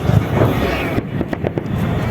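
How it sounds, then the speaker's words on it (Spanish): Victory Day fireworks bursting over a Russian city: a muffled rumble, then a quick series of sharp pops and cracks in the second half, heard from some distance with wind noise on the microphone. "donde hay fuegos artificiales a esta hora"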